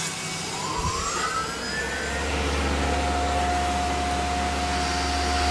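A CNC mill cuts clearance with tool 31 while making a Glock rear sight pusher tool, giving a steady, loud spindle whine with a tone that rises early on and then holds over a constant machine hum.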